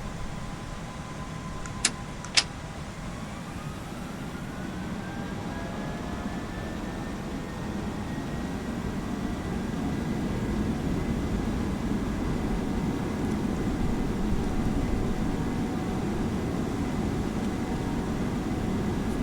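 Airliner engines spooling up to takeoff power in the Prepar3D flight simulator, a steady broadband roar with rising whine tones building and holding loud for the whole stretch, with two brief clicks near the start.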